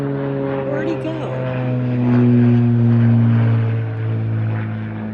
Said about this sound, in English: I mean propeller airplanes